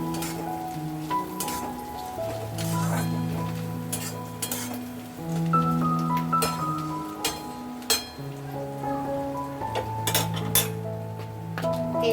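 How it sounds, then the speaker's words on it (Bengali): Onions fry in a pan on a home stove, giving a continuous soft sizzle with occasional sharp clicks of stirring and utensils against the pan. Steady tonal music plays in the background. "পেঁয়াজটা ভাজা হয়ে এসছে"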